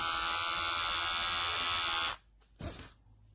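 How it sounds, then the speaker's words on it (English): Wahl Color Pro cordless rechargeable hair clipper buzzing loudly and steadily for about two seconds before switching off, leaving brief quiet handling noise. "here is the Wahl Color Pro cordless clipper"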